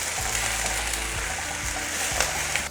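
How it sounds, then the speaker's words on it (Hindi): Spring onion whites and chilli sauce stir-frying in a hot pan, a steady, close sizzle that holds evenly throughout. "डाल दूंगी 1 चम्मच चिली सॉस। अब कुछ सेकंड्स के लिए भूनेंगे।"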